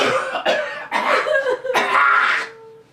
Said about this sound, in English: I'm gonna cough on you.